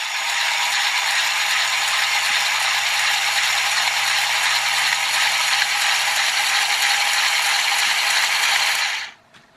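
A small solar-powered motor in an electric shark toy kit spins with a loud, close, continuous buzzing rattle like a ratchet, running steadily for several seconds before cutting off abruptly near the end, with no talk.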